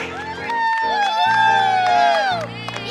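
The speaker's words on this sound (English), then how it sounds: "Good crowd support." Spectators cheer and shout encouragement for runners along the course of the New Bedford Half Marathon, a sustained swell of voices with whoops, and a nearby voice speaks over it.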